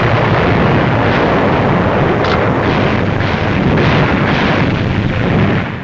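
Dense, continuous artillery barrage at the Battle of El Alamein, a loud rumbling wall of overlapping gun blasts with no pauses, sustained for several seconds.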